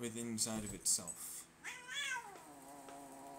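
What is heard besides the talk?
dog and cat fighting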